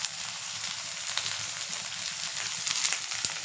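Curry leaves crackle and sizzle in hot oil in a pan, with cabbage, for egg fried rice, a steady dense frying hiss with a few sharper pops near the end and no talking.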